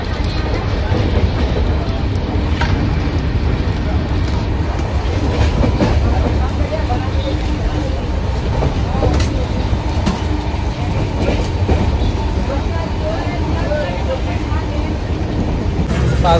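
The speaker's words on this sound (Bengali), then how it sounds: "মালগাড়ি যাচ্ছে, বিশাল বড় মালগাড়ি" A huge goods train runs past alongside a stationary Darjeeling Mail passenger train just before Malda, its wagons rumbling and clattering steadily and loudly throughout with faint voices mixed in.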